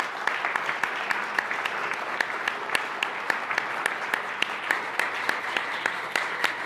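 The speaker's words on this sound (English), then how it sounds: "A big round of applause for our three panelists." Audience applause for three panelists at the close of a financial services launch panel discussion, with steady clapping and sharp individual claps standing out throughout, moderately loud and with no talking.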